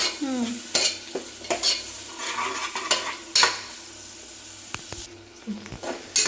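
Onions sizzle and crackle in a pan while a spoon stirs and scrapes, with occasional sharp clinks of utensil against metal; no one speaks.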